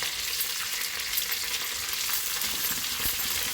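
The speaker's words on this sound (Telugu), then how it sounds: "పచ్చిమిరపకాయలు వేసాను, కొద్దిగా కరివేపాకు వేసాను, ఒక 4 ఎండు మిరపకాయలండి. ఇవన్నీ వేసి మనం ఫ్రై చేసేసుకుంటూ" Green chillies, curry leaves and dried red chillies fry in hot oil in a pan, giving an even, continuous close sizzle with faint stirring and no voices.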